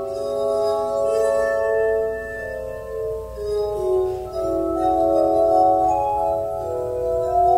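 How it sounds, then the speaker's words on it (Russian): Glass harmonica played with sustained, ringing glassy tones layered in slow overlapping chords, steady and fairly loud with no voices. "уникальная стеклянная гармоника вновь популярна"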